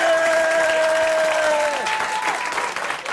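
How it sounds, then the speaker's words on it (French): Loud studio audience applause fills a French television variety show set, steady dense clapping throughout with a held tone fading beneath it. "Allez, mes enfants, applaudissez."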